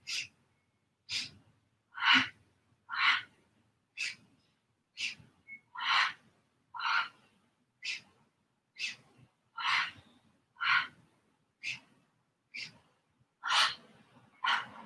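Breathing during a pilates exercise: a regular series of about fourteen short, airy breaths, close and fairly quiet, evenly spaced with silence between them.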